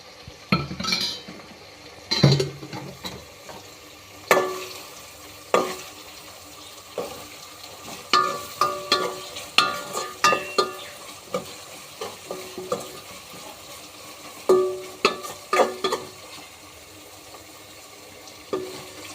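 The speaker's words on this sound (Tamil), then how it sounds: "பூண்டு வெங்காயம் எல்லாமே எண்ணெயில் நல்லா பொரிஞ்சிட்ருக்குது" Garlic and onion fry in oil for a garlic kara kuzhambu, a low sizzle broken by frequent sharp clinks of a ladle against the pan, with scraping, stirring and a bit of running water nearby, no voices.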